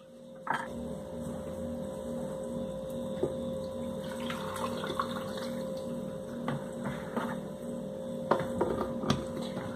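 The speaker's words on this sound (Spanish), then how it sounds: "Vas a colocar un poco de agua para poder licuar." Water poured into a blender jar over onion, garlic clove and chipotle chiles for a sauce, a steady close trickle and splash running through the whole stretch over a constant low electrical hum, with occasional small knocks.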